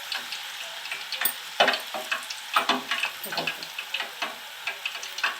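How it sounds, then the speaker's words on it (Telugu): Red hibiscus flowers, hibiscus leaves and curry leaves fry in oil on low heat, giving a soft, steady sizzle with crackling pops and occasional stirring clicks, close and fairly quiet. "ఇవన్నీ కూడా మొత్తం ఫుల్గా వేగనివ్వాలండి."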